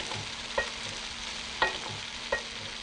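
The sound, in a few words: stir-frying prawns, noodles, leeks and bean sprouts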